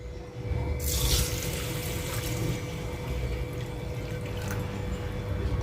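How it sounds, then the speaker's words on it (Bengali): Tap water runs steadily into a bowl of Dehradun rice being rinsed at a sink for a Bengali egg and potato biryani, a continuous close splashing wash with a brief louder gush near the start, no talking. "এবার দেরাদুন রাইসটা দুবার তিনবার জল দিয়ে ভালোভাবে ধুয়ে নিতে হবে।"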